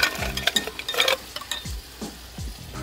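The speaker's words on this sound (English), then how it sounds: "Give it a little stir." A spoon stirs a mint drink in a glass, making a few quick clinks and swishes that come in short bursts, close and fairly loud, with no talk.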